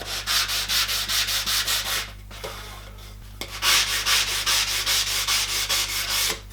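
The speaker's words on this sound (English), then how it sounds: "So I'm just going to give this sword edge a bit of a sandpaper." Sandpaper rubbing along the edge of a wooden sword, a close, rhythmic rasping in quick back-and-forth strokes over a low steady hum, with a short pause midway before the strokes resume.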